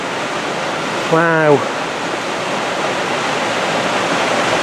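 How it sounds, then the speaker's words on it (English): Steady broadband roar of the waterfall at Hanging Lake in Glenwood Canyon fills the clip from start to end, with a short spoken exclamation briefly rising over it. "I don't know if you can hear it, but this takes us just above the waterfall."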